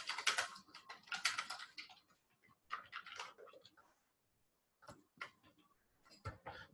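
Someone types on a computer keyboard, quiet but close, in quick bursts of clicking keys separated by brief pauses and one longer silence.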